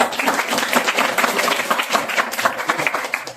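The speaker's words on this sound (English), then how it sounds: "Please clap for them." An audience at a youth debate contest claps for the top-ranked speakers, a lively burst of many hands with distinct individual claps standing out, rising and falling slightly in loudness throughout.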